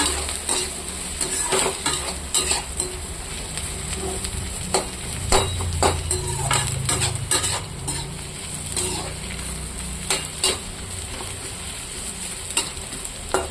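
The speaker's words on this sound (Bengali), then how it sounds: "পেঁয়াজটা একটু লাল লাল করে ভাজবো।" Onions with fresh green chillies and dried red chillies frying in oil in a wok, a steady close sizzle broken by repeated scraping strokes of a stirring spoon throughout, no voices.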